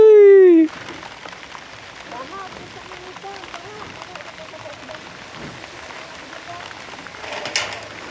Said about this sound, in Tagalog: Walang tigil po kasi ulan.